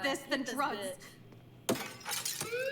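Glass shatters with a sudden bright crash, struck with a hammer in the game Life is Strange, a sharp break followed by a second burst, set among a woman's spoken chatter.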